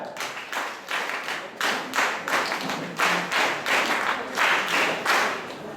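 Crowd applause at a closing ceremony of a de-addiction camp, many hands clapping in rhythmic unison bursts that swell and pulse roughly twice a second, loud and close, with no talking.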